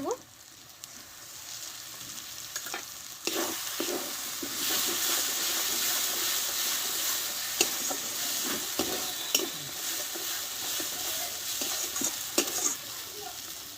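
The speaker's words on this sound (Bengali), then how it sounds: "মশলাটা একসঙ্গে ভালোভাবে কষে নেব আমি" A chilli, ginger and onion masala paste with turmeric and salt fries in a pan, sizzling loudly and continuously while a spoon stirs with occasional scrapes and knocks, close and busy throughout.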